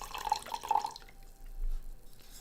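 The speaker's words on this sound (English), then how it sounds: "And we're going to pour a little bit of this wine, give it a little bit of a swirl." Joe Chandellier Alluvions 2020 wine poured through an aerator into an Irish crystal glass, a brief gurgling, dripping trickle up close that stops after about a second, leaving a quiet room.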